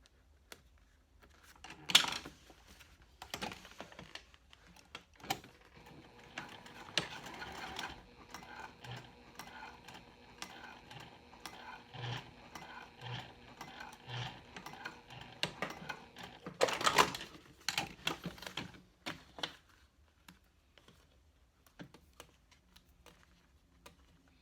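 A sewing machine stitches layers of cork for a clutch wallet, running in short mechanical bursts with pauses between, fairly faint and close, with no talk.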